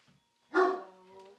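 Loud dog barks at a doorbell inside a home, one sharp bark burst followed by a trailing whine-like tone, close to the microphone with brief quiet before.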